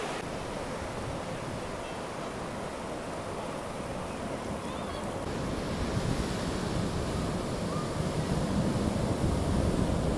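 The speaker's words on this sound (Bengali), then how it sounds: "প্রায় বেশ ঠান্ডা হাওয়া বইছে, তার সঙ্গে সমুদ্রের ঢেউ" Steady roar of sea waves breaking on Puri's Golden Sea Beach with a cool wind blowing, a continuous broad wash that swells louder in the second half, with no voices.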